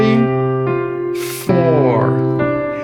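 Piano coordination exercise with the left hand repeating low notes under the right, played as a few clear, sustained piano tones and chords close up, with a brief noisy burst in the middle.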